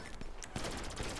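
Pistol gunfire in the game GTA, a quick burst of several shots over a dense mix of game noise in a brief moment.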